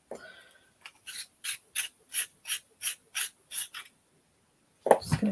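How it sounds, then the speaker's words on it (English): A manual pencil sharpener grinds up close in a steady run of about nine rhythmic rasping strokes, each a short scraping burst, ending with a brief knock after a pause. "Just going to clean out my pencil sharpener."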